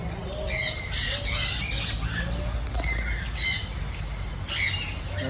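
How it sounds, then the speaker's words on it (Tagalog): Many birds squawk at a wildlife center, harsh loud calls repeating in bursts over a steady outdoor background hum, some near and some farther off. "Daming ibon po dito."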